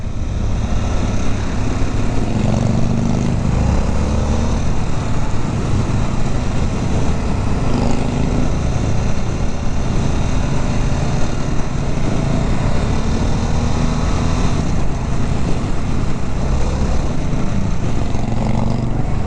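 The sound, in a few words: Harley-Davidson 1250 Sportster S motorcycle engine while riding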